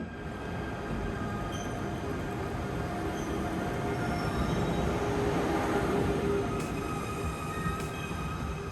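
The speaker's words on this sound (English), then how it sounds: "The empty platform beside us is soon filled by our train, led by NS Class 186 number" An NS Class 186 locomotive pulls an intercity train into a platform in the Netherlands. It makes a steady, loud rolling rumble with faint high wheel squeals and thin tones over the top, and no voices.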